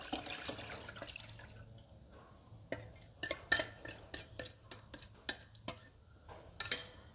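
Pandan rice-flour batter for Vietnamese phu thê (xu xê) cakes pours into a pan, with a watery trickle followed by a run of wet clinks and drips against the metal, close and moderately loud, no talking.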